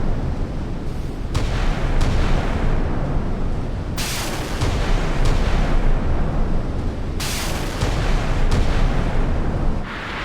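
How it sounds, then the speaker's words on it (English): Slava-class cruisers fire naval guns in a video game, a dense string of heavy booms and sharp blasts, several landing in quick succession, loud and continuous, with no talk. "Gunnery going out."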